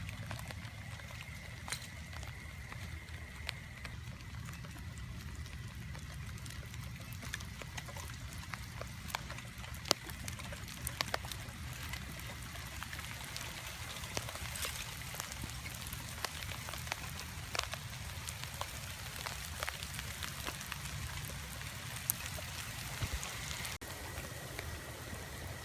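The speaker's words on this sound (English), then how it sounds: "It's raining a lot right now" Heavy rain falls steadily at a cemetery, a continuous soft wash with scattered louder drops pattering nearby, sustained and even throughout without voices.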